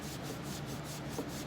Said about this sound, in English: As you can see, the brasso is cleaning it nicely here.